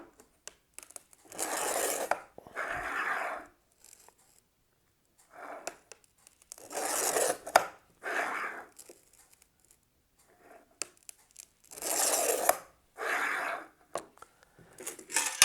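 A Hasal Cam glass scoring unit scoring glass: several separate close, gritty scratching strokes, each lasting about a second, in pairs with short quiet gaps between them.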